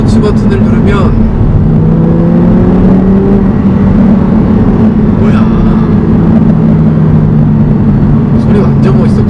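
An Audi R8 V10 Plus in sport mode revs its engine loudly, a deep rising and falling roar heard from inside the car with a few brief voices over it.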